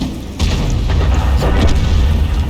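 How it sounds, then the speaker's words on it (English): A KV-2 heavy tank's big gun fires in a tank video game: one loud, booming blast that lands sharply after a brief quieter moment, then rumbles on with a heavy low tail. "the KV-2 once again gets the final one shot on the SU 130 PM"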